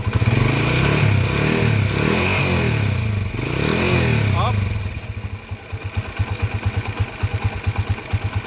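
Motorcycle engine revving up repeatedly in a mechanic's shop, rising and falling throttle blips followed by a rough, pulsing idle, with voices talking over it.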